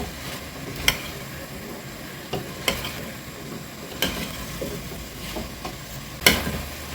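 A pan of pork belly and potatoes frying on high heat gives a low continuous sizzle, broken by occasional sharp clicks and scrapes of stirring spaced a second or two apart.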